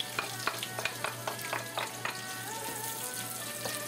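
Green onion and ginger sizzle in a hot frying pan, a steady bright crackle with scattered sharp pops and light stirring clicks, close and continuous with no talking.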